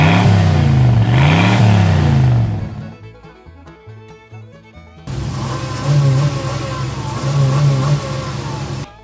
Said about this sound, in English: The battle was fierce during the engine revving competition